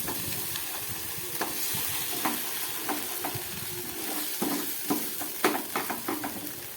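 Masala sautéing in a pan for a cauliflower, potato and pointed gourd mixed vegetable curry, a steady soft sizzle broken by repeated scraping stirs and small clinks of the spatula.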